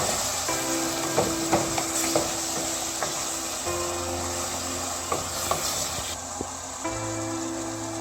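Saltfish and callaloo cook in a pot, giving a steady soft sizzle and bubbling with a few light clinks and stirring knocks, close and fairly quiet, with no talk.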